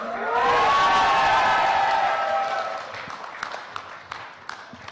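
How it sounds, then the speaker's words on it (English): An indoor crowd at a phone launch event cheers and whoops loudly for a few seconds, then the roar fades into scattered claps and murmurs. "Can we hear out some more cheer and crazy cheer in the house?"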